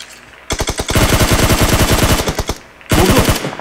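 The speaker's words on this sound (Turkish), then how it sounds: "Vurdun Eylül onu." Automatic gunfire from PUBG Mobile, loud rapid bursts of closely spaced shots running for nearly two seconds, a short pause, then another burst, with no talk over it.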